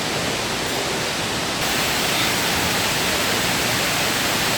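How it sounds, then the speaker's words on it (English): A 40-foot indoor waterfall at the Opryland Hotel Cascades roars as a steady, dense rush of falling water, close and loud throughout with no voices. "This is actually a 40-foot waterfall."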